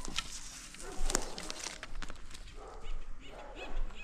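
A dog nearby makes scattered whiny, snuffling noises and small yips among soft shuffling movements, moderately quiet and irregular.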